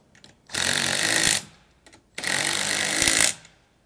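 Two bursts of a power tool tightening a self-locking nylock nut on a surfboard rack for a camper, each lasting just under a second, loud and close, with a short pause between them.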